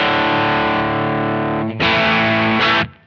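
MayFly Creamsicle Overdrive pedal on its thin gain setting: a sustained, distorted guitar chord rings loudly, briefly dips, then a second strummed chord surges in and cuts off near the end, with no talking.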